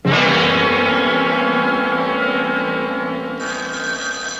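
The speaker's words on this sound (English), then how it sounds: "That must be Carl. Do you want to answer it?" A telephone bell rings loudly and steadily as an effect in an old-time radio mystery drama, one long sustained ring close up with no voices.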